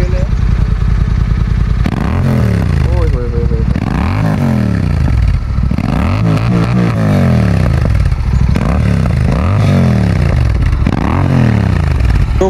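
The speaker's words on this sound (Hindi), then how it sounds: "सो गाइस पहली जो एग्जॉस्ट नोट है वो हम सुनेंगे DB किलर्स के साथ" A Royal Enfield GT 650 with an Offtrails exhaust and dB killers fitted is revved hard again and again. Loud, bassy rising and falling sweeps come close together, with crackles between them and voices under the engine.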